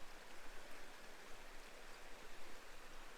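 Creek water at Seven Mile Creek County Park in Minnesota flows under a footbridge at a river crossing, a steady, soft broadband rush that stays even and moderately distant with no voices.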